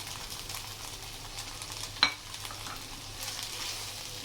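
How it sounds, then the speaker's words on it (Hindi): Onion and capsicum sautéing with potatoes in a pan over a medium flame: a soft continuous sizzle with a brief sharp clink of a spoon partway through. "1 मिनट ही हमने इसकी बुनाई करनी है शिमला मिर्च और प्याज की।"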